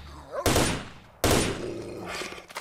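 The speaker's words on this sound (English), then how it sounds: "And of course, shoot the doggies because they're gonna" Two loud, sudden gunshot blasts from a S.T.A.L.K.E.R.: Shadow of Chernobyl firefight against dogs, each ringing out and decaying, the second followed by a rattling tail of further shots and noise.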